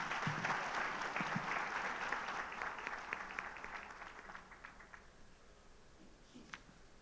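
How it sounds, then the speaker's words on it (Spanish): Audience applause welcoming the president of the Cámara de Comercio de Valledupar at an awards ceremony, a dense round of clapping that thins and fades after about five seconds, leaving a few scattered claps. "a quien recibimos con un fuerte aplauso"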